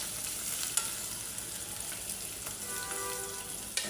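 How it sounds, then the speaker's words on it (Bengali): Eggs and chicken pieces fry in a pan with a dense, even sizzle and crackle, with a couple of faint utensil taps and no voices. "ডিমগুলো একটু কড়া করেই ভাজি"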